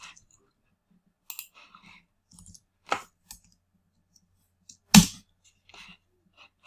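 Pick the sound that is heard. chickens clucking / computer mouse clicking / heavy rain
computer mouse clicking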